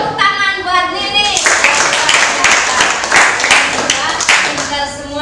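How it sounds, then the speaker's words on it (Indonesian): A classroom group claps for a student, a burst of dense clapping between stretches of a woman's speech. "Tepuk tangan buat Nini."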